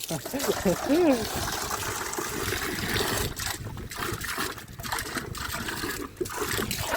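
Water gushes out under pressure in a steady, noisy flow, close to the mic, while people talk excitedly over it in Marathi.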